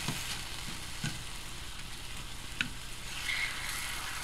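Discount steaks seasoned with Montreal steak spice fry in a pan, a faint, even sizzle with a few small pops and light clicks, no voices.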